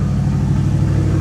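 A Ford Ranger fitted with a 5.0 V8 runs loud and close, its deep, steady engine drone holding even throughout a short stretch.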